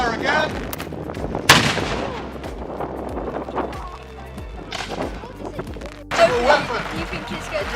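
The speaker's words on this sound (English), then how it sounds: "Looks as if the cannon is ready to fire again." A cannon booms sharply during a castle siege reenactment at Helmsley Castle, with several loud reports echoing out, each followed by decaying rumble, while a commentator talks over the scene.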